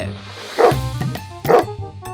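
An Alsatian dog gives two loud, close barks about a second apart, with quieter growly sounds between them.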